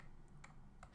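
A few keystrokes on a computer keyboard while entering a billing percentage into software, short faint clicks spaced apart over a quiet background.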